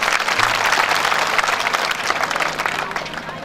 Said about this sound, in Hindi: एक बार इनका स्वागत कर दो ताली बजाकर।